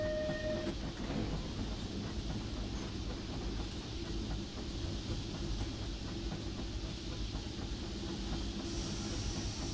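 Steam train running in the Disneyland Railroad Steam Simulator game, a steady low rumble and rolling clatter of the locomotive and cars, with a brief whistle tone near the start, with no talking.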